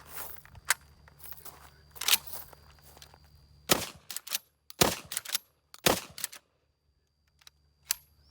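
A Civet 12 shotgun fires Federal 2 3/4 inch heavy field loads: several loud, sharp reports at irregular intervals, mixed with lighter mechanical clacks and handling noises between shots.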